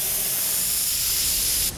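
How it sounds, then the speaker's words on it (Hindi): A loud, steady steam hiss jets out for nearly two seconds, then cuts off abruptly, like a pressure cooker whistle venting. "कुकर की सीटी?"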